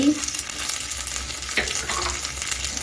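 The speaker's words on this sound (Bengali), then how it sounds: "এখন আদা লঙ্কা জিরাটা কিছুক্ষণ ভেজে নিচ্ছি" Ginger, green chilli and cumin fry in a pan, giving a steady, dense sizzle with faint scraping stirs and an occasional light tap, close and fairly loud with no talk.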